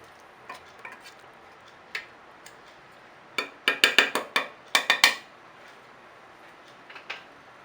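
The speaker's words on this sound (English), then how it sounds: "Stir it up gently." Beef afritada stirred gently in a pressure cooker pot: soft scraping and clinking of the utensil against the pot, sparse at first, then a quick cluster of sharper knocks before easing off again.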